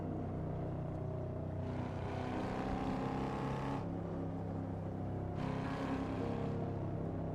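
A Volvo cruising at about 100 mph in Forza Horizon 5, its engine and road noise forming a steady, droning roar that swells slightly twice, heard alone without talk.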